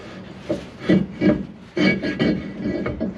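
Rear brake drum on a Dodge Ram 2500 being slid on for a test fit after cleaning, giving close, loud scraping and rubbing of metal on metal in several uneven bursts with short pauses between.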